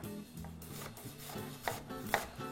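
An onion sliced finely with a knife on a cutting board, soft rhythmic rubbing strokes with two sharper cuts, close and quiet, with faint background music.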